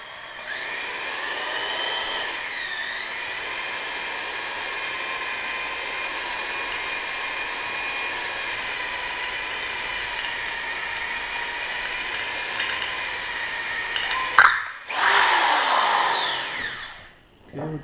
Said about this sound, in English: So we'll just drill this out.